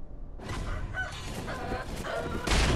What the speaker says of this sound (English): Oh, those chickens are back.